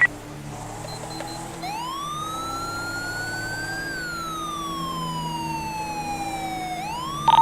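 Police car siren in GTA 5 LSPDFR, wailing in long rising and falling sweeps that run almost the whole clip, loud and close over a low engine rumble, with a brief yelp burst at the very end.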